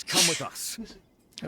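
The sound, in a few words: character sneezing in the video game Genshin Impact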